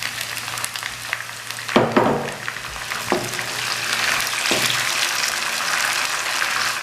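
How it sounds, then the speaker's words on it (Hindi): Onions with ginger garlic paste fry in a pan, giving a steady, close sizzle with a few sharp clinks and scrapes of stirring in the first half. "इसको भी मैंने हल्का हल्का फ्राई कर लिया है प्याज के साथ"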